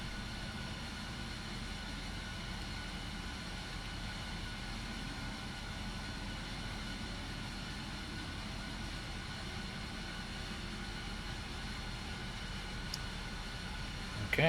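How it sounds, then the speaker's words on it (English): Left engine of a simulated F-14 Tomcat jet cranking and spooling up in Microsoft Flight Simulator, a steady, even broadband roar with a faint high whine that holds constant throughout. "The left engine is cranking."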